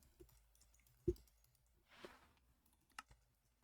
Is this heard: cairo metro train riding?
no